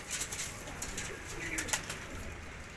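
Soft, low pigeon coos repeat throughout, with a few sharper chirps and light flutters over a faint outdoor background.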